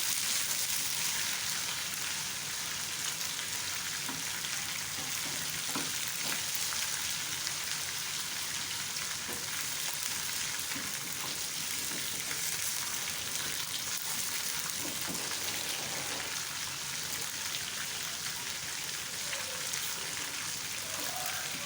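A continuous crackling sizzle of spices frying in hot oil for a lentil tempering, browning to golden, steady and fairly quiet throughout.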